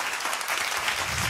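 An audience at a DJ's birthday celebration in Malaysia claps, a dense, steady burst of applause filling the room.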